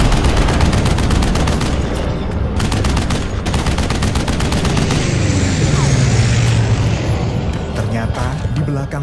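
Two Dutch Mustang fighter planes firing machine guns, with loud rapid bursts of gunfire in rattling volleys over a constant engine roar, pausing briefly and resuming.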